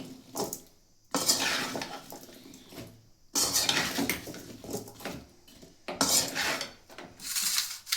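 Potato and brinjal pieces being stirred in a pan, a utensil scraping and clattering against the metal in bursts separated by short quiet gaps, close and fairly loud with no talking.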